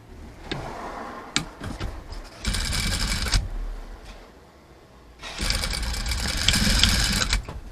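Sewing machine running in two bursts while stitching binding onto the edges of a mesh tank top, a fast whirring buzz with quieter handling noise between runs.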